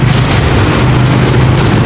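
Rain falling outdoors as a steady, dense hiss with a low rumbling undertone, loud and unbroken throughout, with no voices.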